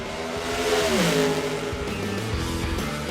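A nitro-powered drag racing car making a full pass at the Palm Beach Nationals, its engine loud and close, roaring steadily with a rising then falling pitch as it screams down the strip, no voices over it.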